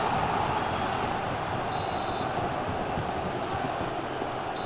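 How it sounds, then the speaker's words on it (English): A digitized stadium crowd from the football video game FIFA 19 keeps up a steady, even roar with no real peaks, heard at a moderate level with no voices over it. "You can hear the crowd, as digitized as they are."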